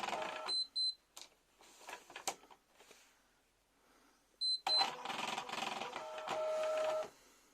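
A Bernina B590 embroidery machine stitching a placement line: short electronic beeps, brief mechanical bursts, then a steady rapid stitching hum near the end, moderately quiet and close.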